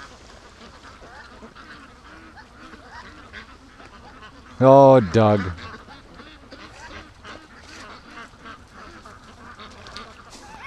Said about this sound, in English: Just look at him swim with the ducks.